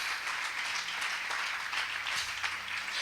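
Church congregation applauding together as an offering of praise, a dense, steady wash of clapping from many hands that fills the whole stretch at moderate loudness.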